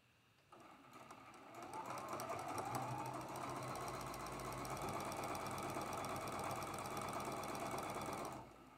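A sewing machine stitches a quilt block in one continuous run of rapid mechanical chatter, starting abruptly, holding steady and close for about eight seconds, then stopping.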